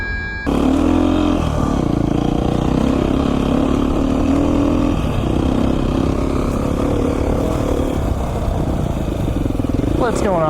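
A Beta 500 RR-S dirt bike engine runs steadily and loud at close range for about ten seconds, a continuous droning rumble with a brief rising rev at the end.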